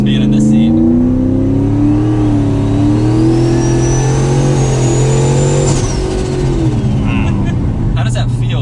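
A 1,000 HP turbocharged Ford Mustang GT accelerates hard, heard loud from inside the car. The engine roar climbs with a rising turbo whistle that cuts off sharply at the shift, then the engine settles into a lower drone.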